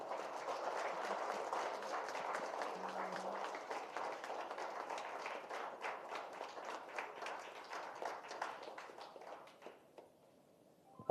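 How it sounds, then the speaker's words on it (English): An audience at a national conference on packaging innovations applauds the official release of the conference souvenir, a dense, steady clapping that runs for about ten seconds before thinning out and fading near the end. "Let us have a big round of applause."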